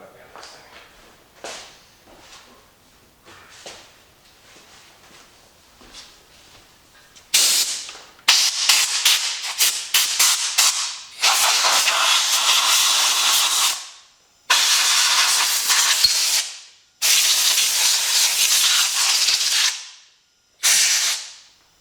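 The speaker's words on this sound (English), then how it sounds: "I'm going to get the air compressor." Compressed air from an air compressor blasts dust out of a Roomba 690 robot vacuum in loud, hissing bursts of several seconds each, separated by short pauses, after quieter handling noises at the start.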